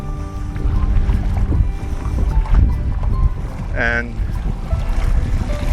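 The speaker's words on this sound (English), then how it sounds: "we've got the wind coming up behind us now, quite strong" Strong wind roars steadily into the microphone while out on a boat, a constant rumbling buffet with someone speaking briefly over it.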